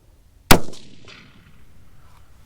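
A single sharp rifle shot from a .224 Valkyrie firing reloaded 75-grain and 88-grain ELD match ammunition at a range, a loud close crack with a ringing decay that fades over about two seconds.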